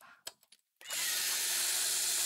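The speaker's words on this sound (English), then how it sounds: "I'll leave and come back to Josh blowing my eardrums out with the dumb DeWalt." A DeWalt power drill kicks on after a few brief knocks and runs loud, close and steady, a continuous high whir to the end.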